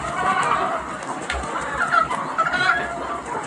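Several egg-laying hens on a farm in the Philippines cluck and murmur close by, a steady low chatter with occasional sharper calls, no voices.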